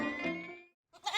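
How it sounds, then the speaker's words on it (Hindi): Goats bleat in a residential housing society, a harmonic cry lasting about three quarters of a second, then a short pause and a noisier, higher bleat or burst close by. "बकरियां मिली"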